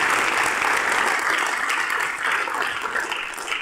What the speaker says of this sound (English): I fear that will be the end of any applause that I receive from this section of the council.